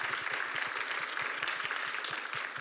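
Audience applause at a library-hosted author talk, a steady patter of many hands clapping at moderate volume, slightly distant, continuing throughout without voices.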